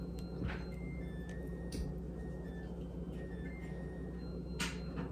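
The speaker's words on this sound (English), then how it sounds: "You can hear my washer singing a jaunty tune in the background." A faint electronic melody of short beeping tones plays from a washing machine in the background over a steady low hum, with a few soft clicks.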